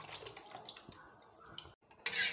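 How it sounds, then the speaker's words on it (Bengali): Boiled pea lentils poured into a pan, heard as a close, irregular watery splashing and gurgling with small drips, a short pause, then a louder rush of liquid at the end. "এবার সিদ্ধ ডালটা ঢেলে দেবো।"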